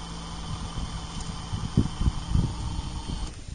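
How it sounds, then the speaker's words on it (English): A DC motor driving a permanent magnet AC generator labors under the load of two 60-watt bulbs at reduced RPM, giving a steady close hum with occasional low mechanical thumps. "It's making this motor work hard to get those two lit."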